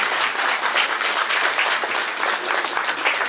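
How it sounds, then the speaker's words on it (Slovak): An audience at an art exhibition opening for paintings by Tina Turnerová bursts into dense, steady applause that fills the room evenly throughout. "Potlesk Tina Turner!"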